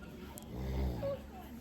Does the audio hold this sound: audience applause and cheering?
no